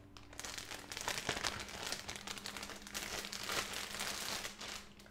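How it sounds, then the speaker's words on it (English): Plastic Ziploc bag crinkling steadily for about five seconds, close and fairly loud, with no talking, at a makeup store checkout counter. "we have these Ziploc bags"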